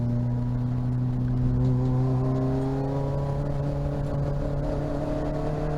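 A race car at Rockingham circuit drives out of a chicane and accelerates hard up through the gears, the engine note climbing steadily in pitch, loud and close from inside the cockpit, with no talk over it.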